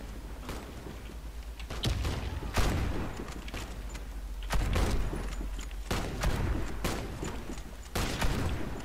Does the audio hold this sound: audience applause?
no